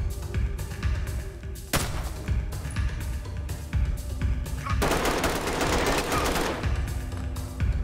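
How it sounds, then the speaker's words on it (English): Loud, rapid video game gunfire crackles in dense automatic bursts with heavy thuds, continuing almost without pause. "I hear gunfire."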